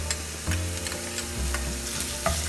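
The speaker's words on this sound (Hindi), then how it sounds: "अदरक लहसुन भी हम ज़्यादा टाइम फ्राई नहीं करेंगे" Continuous close sizzling of ginger and garlic frying in a pan with onions, with intermittent stirring scrapes and light metallic taps throughout.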